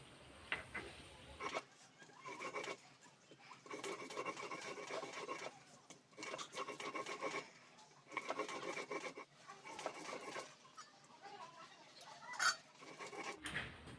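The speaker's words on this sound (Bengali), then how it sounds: "এখানে আদা, সর্ষে, পোস্ত আর রাঁধুনিটা বেটে নেব" Ginger, mustard seeds, poppy seeds and radhuni are ground into a paste by hand, producing rhythmic gritty rubbing and scraping strokes in repeated bursts with short pauses between them.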